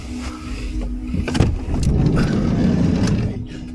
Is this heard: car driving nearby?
yes